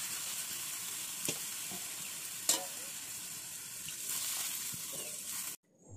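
Water added to parshe fish curry frying in a pan sets off a steady, dense sizzle with occasional stirring scrapes, holding at an even level before cutting off suddenly near the end.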